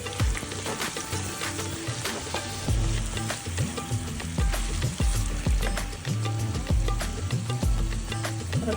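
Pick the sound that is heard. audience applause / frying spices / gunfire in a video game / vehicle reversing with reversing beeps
frying spices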